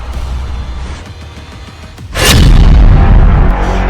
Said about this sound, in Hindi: इसके गली के एक मुहाने पर खड़े इजरायल के मरकाबा टैंक को यासीन रॉकेट से टारगेट किया जाता है।